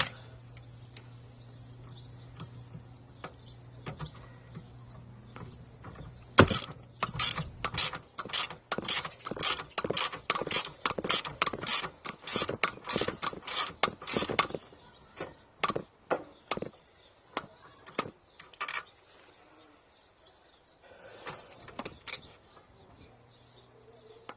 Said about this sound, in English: My pissing ratchet's going apart as usual.